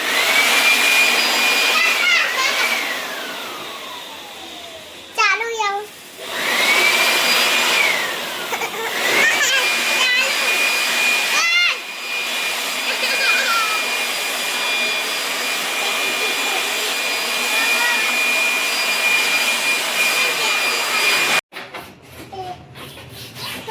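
An air conditioner being serviced with cleaning equipment gives off a loud, continuous motorised whine, like a vacuum or blower, with a few short interruptions and an abrupt cutoff near the end.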